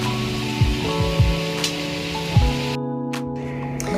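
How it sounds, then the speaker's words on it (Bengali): Marinated chicken in a pan with tomato, onion, ginger-garlic paste and ground spices sizzles steadily with a rain-like hiss, and a few utensil scrapes and clinks sound over a constant tonal hum. "এখানে ম্যারিনেট করা চিকেনগুলো এবার আমি একটু কষিয়ে নিচ্ছি"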